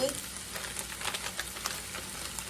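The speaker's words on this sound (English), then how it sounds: "I've got my cream cheese in there melting" Cream cheese melting in a pan for shrimp toast, giving a soft, steady sizzle with light crackles and stirring scrapes, heard up close without talk.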